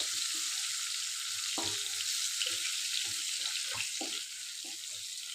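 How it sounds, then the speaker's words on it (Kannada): Finely chopped green chillies fry in oil for an egg masala, giving a steady bright sizzle with a few soft stirring knocks and scrapes in the pan, close and continuous, with no voices. "ಇದಕ್ಕೆ ಒಂದು 5-6 ತುಂಬ ಸಣ್ಣದಾಗಿ ಕಟ್ ಮಾಡಿದಂಥ ಹಸಿಮೆಣಸಿನ್ಕಾಯಿ ಹಾಕ್ಕೊಂಡು ಫ್ರೈ ಮಾಡ್ಕೋಬೇಕು."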